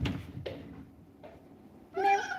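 Pet cats meow at feeding time, with a few short separate calls and a louder, longer meow at the end, close by and with no talk over them.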